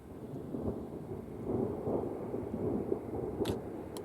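Low rolling thunder rumbles through a storm chase, a long distant grumble rising and falling over steady background noise, with a couple of sharp crackles near the end.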